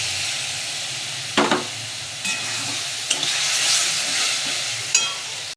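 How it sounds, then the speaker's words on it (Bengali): Spice paste being stirred in a pan hisses and sizzles loudly, with sudden bursts of steamy spitting each time a splash of water hits it and scraping from the stirring between. "তাই আমি জল দিয়ে মশলাটাকে কষিয়ে নেব"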